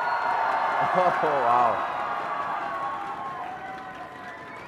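A live esports crowd at a League of Legends championship final between CLG and Team Solo Mid cheers loudly. The roar swells and then slowly fades, and a voice calls out over it.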